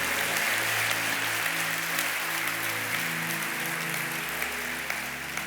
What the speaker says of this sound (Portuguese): Pode dar uma salva de palmas ao Senhor Jesus